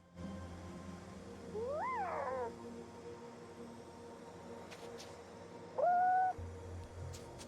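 Large birds in the video game Omno give two rising, warbling calls, the first around two seconds in and a second, shorter one near six seconds, over a soft ambient game backdrop.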